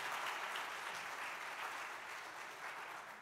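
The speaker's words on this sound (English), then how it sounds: "Let's give Vice Principal Rose another hand of applause" Audience at a school concert at Pine Forge Academy clapping steadily, a dense wash of many hands, fairly soft and distant, tapering slightly toward the end.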